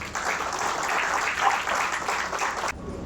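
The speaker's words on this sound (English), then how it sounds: "So have a big applause for them." Audience applause at an academic congress in Jhansi, a dense steady clatter of many hands that holds for close to three seconds, then cuts off abruptly.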